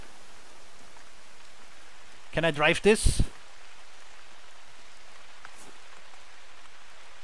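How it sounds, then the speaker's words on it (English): Steady rain falls in the Call of the Wild hunting game, a constant hiss that runs the whole time, with someone briefly speaking over it. "And it's still raining."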